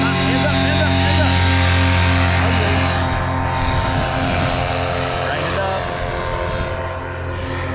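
A paramotor engine run at full throttle, loud and steady with a sustained droning whine close by, while an instructor's voice talks over it.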